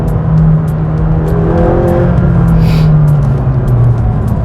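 McLaren GT with 620 hp accelerating in Sport mode with manual gear selection on an open road, a steady loud engine drone rising gradually in pitch throughout, heard from inside the cabin.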